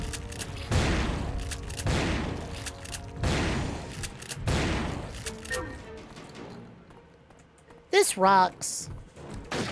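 Shotgun blasts in the video game Turok 3: Shadow of Oblivion, four loud booming shots at a steady pace, followed by quieter game effects and a brief spoken comment from a player.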